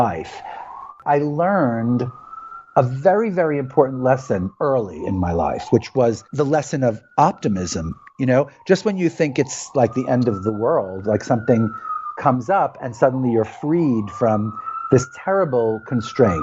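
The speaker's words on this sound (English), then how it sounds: "Sorry about the siren." Emergency vehicle siren passing outside, a long wailing tone rising and falling steadily in the background while someone talks continuously over it.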